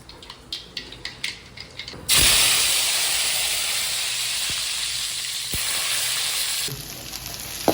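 Onions, curry leaves and green chillies hit hot oil in a pan. A few sharp taps come first, then a sudden loud hissing sizzle that holds steady, broken by occasional clicks, and it eases near the end.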